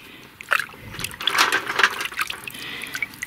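Water sloshing and trickling in a bucket as mineral samples are rinsed, with soft splashes and drips close by in an otherwise quiet space.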